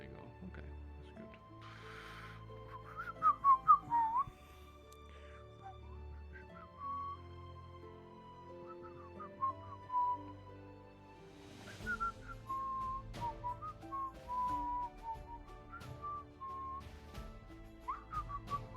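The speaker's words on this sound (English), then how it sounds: "Do you know how to whistle, Raz?" Whistled melodic phrases from a video game, short wavering tones repeated several times over a quiet musical background, with occasional louder bursts of game sound.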